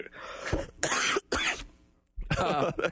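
A man coughing several times, close and loud, harsh bursts with short gaps between them and no talk.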